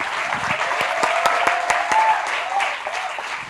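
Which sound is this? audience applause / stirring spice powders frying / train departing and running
audience applause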